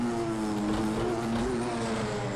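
Race cars in Project CARS 2 during an IMSA multi-class race at Long Beach, with a prototype among traffic; a steady, loud, droning engine roar runs throughout without a break.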